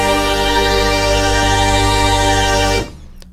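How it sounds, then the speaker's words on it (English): A vintage strings 2 patch on a Yamaha DX7 FM synthesizer holds a thick, rich string chord. It sustains loud and steady for nearly three seconds, then stops abruptly, leaving only a faint tail. "Vintage strings 2 sounds like this"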